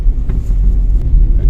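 A car drives on a rough road in the rain, giving a loud, steady low rumble with faint knocks from the uneven surface.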